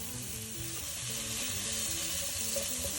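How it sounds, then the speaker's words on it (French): Prosciutto fries gently in a pan over medium heat, giving a soft, even, continuous sizzle with no pauses and no voices. "j'y ajoute le prosciutto et je vais le laisser fondre, dorer doucement sur feu moyen"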